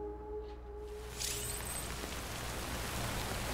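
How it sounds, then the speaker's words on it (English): Steady rain hisses without a break in a video game, a broad, even wash of falling water that swells slightly after the first second, with no voices. "I don't think this rain's going to stop you."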